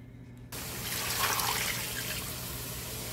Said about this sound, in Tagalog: Since kumulo na siya, itatapon natin ang ating tubig.